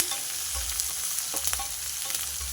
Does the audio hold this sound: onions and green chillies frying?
yes